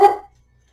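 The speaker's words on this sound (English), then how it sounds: "Yes, that's the dog." A single short dog bark, close and fairly loud, heard indoors in a workshop, then quiet.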